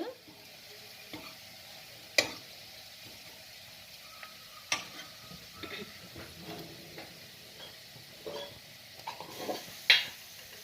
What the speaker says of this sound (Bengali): আমি গুঁড়ো এক চামচ দিলাম এটাকে নাড়াচাড়া করে